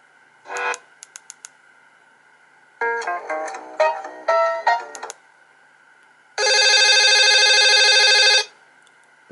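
A Nokia 3110 classic mobile phone plays several short, loud ringtone bursts: a few quick beeps, a choppy melodic phrase, then a sustained buzzing tone lasting about two seconds, with silence between.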